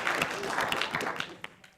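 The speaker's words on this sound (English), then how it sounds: "Let's give a round of applause for Jay." Brief, modest applause from a conference audience, scattered claps close together over a short burst that thins out quickly.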